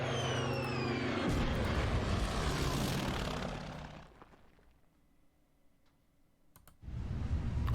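SBD Dauntless dive bomber in a WW2 Pacific strategy game: a loud engine drone with clicks for the first four seconds, dropping to near silence, then a burst of sound returns near the end.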